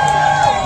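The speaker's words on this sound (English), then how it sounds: "Please clap and cheer" A crowd at a 5K race claps and cheers in a brief, dense burst of applause and shouting, heard up close.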